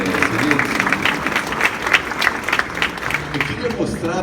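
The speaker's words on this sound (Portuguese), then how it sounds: "Aplauda o Senhor, Ele merece, gente." A church congregation claps loudly and steadily, a close, dense wash of applause with uneven swells, some faint voices mixed into the crowd noise.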